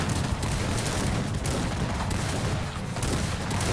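Musket infantry volley fire in the video game Cossacks 3, a dense continuous roar of overlapping shots and rumbling booms with no gaps, even and steady throughout.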